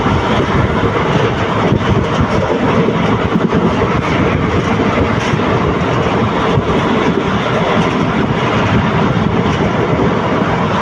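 Loud, continuous rumble and rush of a Palani to Pollachi train at full speed, heard from inside a carriage, with a faint rhythmic clatter of wheels over rail joints and no voices.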